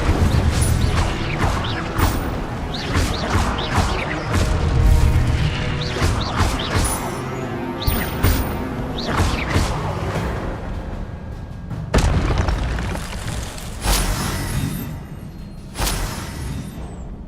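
Incendio fire spell cast in the Hogwarts Legacy video game: loud, dense layered game audio with crashing, whooshing bursts and deep booms, strongest near the end, over a constant busy backdrop.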